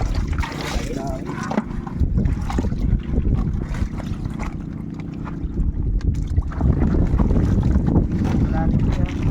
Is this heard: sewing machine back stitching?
no